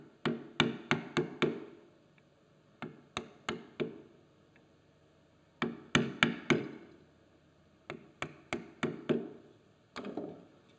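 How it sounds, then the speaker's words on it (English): A hammer drives a chisel into wood to chop out a dovetail joint, close and crisp, in bursts of three to five sharp knocks separated by short pauses. "I might go with a chisel hammer."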